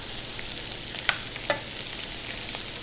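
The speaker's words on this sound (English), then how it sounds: "This is going to be a glaze." Assorted mushrooms cook in a butter glaze in a restaurant pan, giving a steady, close sizzle with a couple of brief sharp crackles, heard alone without voices.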